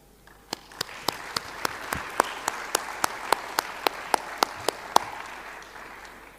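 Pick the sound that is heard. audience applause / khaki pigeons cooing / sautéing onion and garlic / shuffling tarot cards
audience applause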